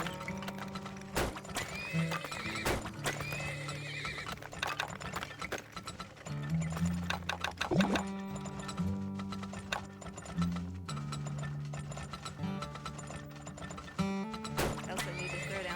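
Horses in the video game Turmoil neigh repeatedly over steady clip-clopping hooves, with mechanical game sounds layered underneath.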